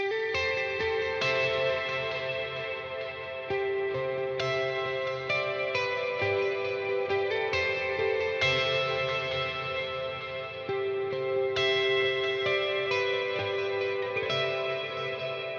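Electric guitar run through a Line 6 Helix with stereo delay and a gentle overdrive, sustained chords and ringing notes repeating with echoing trails, loud and continuous with no talking.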